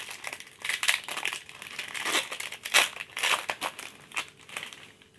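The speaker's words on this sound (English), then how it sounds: "Let's open the first pack." Crinkly plastic foil of a Magic: The Gathering booster pack being torn open and crumpled by hand, a close, continuous run of crackling and tearing bursts with no talking.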